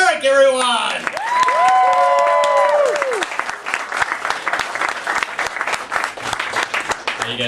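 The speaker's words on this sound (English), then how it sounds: "Let's have a huge karma round of applause for Derek, everyone!" Comedy club audience in Milwaukee breaking into applause and some cheering as a comedian takes the stage, a full, steady round of clapping with a voice heard over it at the start.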